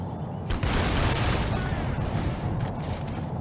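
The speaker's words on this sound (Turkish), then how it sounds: "Top atıyor gördün mü?" Heavy cannon fire in the shooter game Crysis Warhead, a sustained barrage of loud booming blasts and gunfire rolling on for several seconds with no pause, dense and close.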